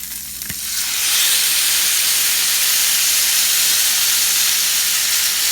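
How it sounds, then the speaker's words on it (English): One can of chili hits a pan of crispy, sizzling hot dogs, and a loud steady frying hiss swells within a second and holds, close and unbroken. "Now we're going to add the chili to the"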